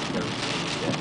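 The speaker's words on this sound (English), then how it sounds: "On a very rainy day." Heavy rain while driving on Eiker Road, a dense, steady roar of water spray and drumming drops on the car, loud and continuous with no pauses.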